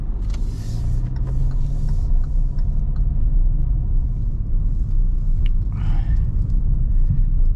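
A car drives along a road near a Catholic school, its steady low rumble of engine and tyres continuous and fairly loud throughout, with no talk over it.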